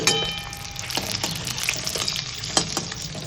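Eggs frying in oil in a wok hiss in a steady, dense close-up sizzle, with several sharp spatter pops and clinks scattered throughout.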